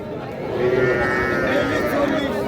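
A drawn-out moo rises from young heifer calves at Raniganj cattle market, close by and fairly loud over a murmur of surrounding market voices.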